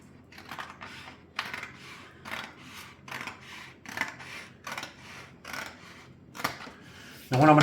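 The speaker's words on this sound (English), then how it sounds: "we'll just use the good old scissors" Good old scissors snip through craft paper scraps for Christmas decorations, giving a rhythmic series of close, crisp cuts at a steady pace before a louder sound breaks in at the end.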